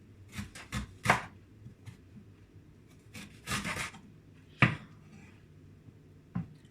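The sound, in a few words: chopping garlic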